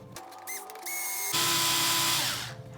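A cordless power drill drives screws into a plastic Traxxas Slash 4x4 LCG RC chassis, whining in short bursts, then in a longer rising run that slows as the screw seats, close and loud.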